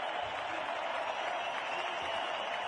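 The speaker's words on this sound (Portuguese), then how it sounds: "Aplaudidíssimo time do Iraque." A stadium crowd at a Brazil versus Iraq football match that ended 0-0 applauds the Iraq team, a steady, distant wash of clapping and crowd noise.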